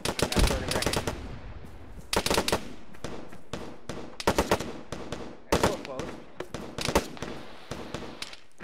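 Gunfire in the military video game ArmA, with repeated bursts of automatic shots and single cracks coming in irregular clusters, fairly faint and distant, separated by short quiet gaps.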